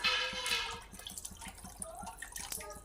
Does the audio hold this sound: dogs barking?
no